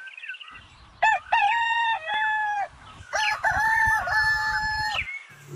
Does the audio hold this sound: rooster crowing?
yes